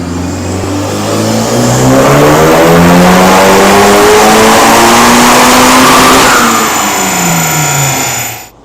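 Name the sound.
turbo car revving on dyno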